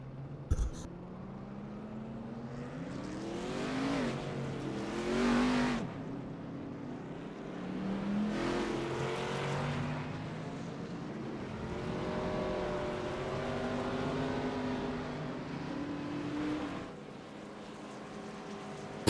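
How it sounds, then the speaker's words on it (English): In iRacing, a pace car and a field of race cars pull off pit road, engines rising and falling through revs and gear changes, several cars layered together at moderate distance. "the iRacing official pace car is set to grab a gear and take it out of neutral as we are set to go off the pit road"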